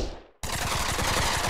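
Rapid automatic gunfire in the virtual reality shooter Pavlov VR bursts in after a brief near-silence, a loud, dense stream of shots that runs without a break to the end.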